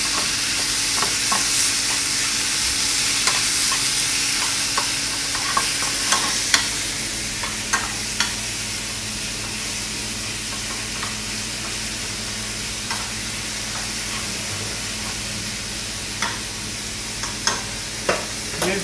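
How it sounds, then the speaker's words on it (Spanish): Beef sizzling and frying in oil in a pan for Peruvian empanada filling, a steady crackling hiss broken by frequent stirring scrapes and clinks of a utensil, close and continuous with no talk. "Hacemos que la carne se fría bien con el aceite"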